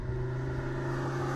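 An Audi R8 sports car with quattro all-wheel drive accelerating out of a bend, its engine giving a steady, loud droning rumble with a strong low hum and no pauses.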